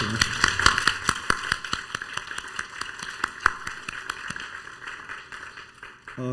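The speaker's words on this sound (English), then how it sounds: "Let's give him another round of applause." An audience at a transplant center celebration applauds a liver transplant patient, a steady stream of sharp, fairly close claps lasting several seconds and slowly thinning toward the end.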